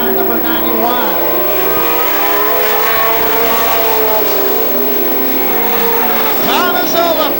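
Pro stock race cars scream past on the oval at Star Classic at night, with rising and falling engine whines as cars pass and tires squeal, under a race announcer's steady commentary.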